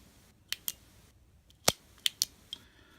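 Flashlight tailcap switch pressed repeatedly, several sharp close clicks in uneven pairs and singles over a few seconds, crisp against a quiet background.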